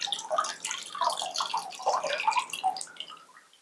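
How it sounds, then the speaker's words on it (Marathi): Excess soaking water poured off soaked sago through a tilted pot lid, a light continuous trickle and dripping splash close by, steady for several seconds and then thinning out, with no talk. "झाकणीने पाणी आपण असं ओतून काढायचं"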